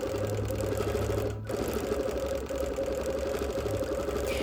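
Sewing machine quilting around the outsides of small fabric patches on busy printed fabric, running as a steady, loud, close-up mechanical whir with a rapid stitching rhythm throughout, dipping once briefly before resuming.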